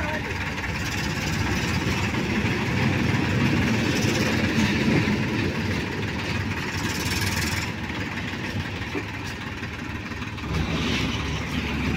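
An Eicher 333 tractor engine runs steadily at a tractor pulling face-off, a loud continuous diesel drone with rough low rumble throughout, with people talking over it.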